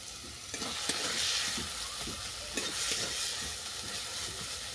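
Green beans fry with salt and turmeric in a pan, a steady close sizzle broken by a few scraping stirs, with no talking.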